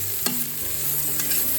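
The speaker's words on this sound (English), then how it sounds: "Now I am adding chopped ginger and garlic. I'm gonna cook them until the raw smells go away." Chopped ginger and garlic fry in a hot pan, giving a close, loud, continuous sizzle broken by a couple of sharp stirring scrapes, with no one talking.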